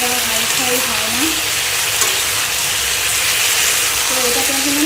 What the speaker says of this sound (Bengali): তো এটাকে এখন আমি ভাজা ভাজা করবো